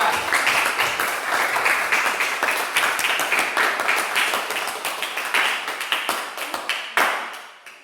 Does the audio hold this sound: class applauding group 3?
yes